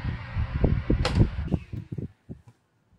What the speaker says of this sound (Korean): 이 선풍기는 약 30초 만에 멈췄습니다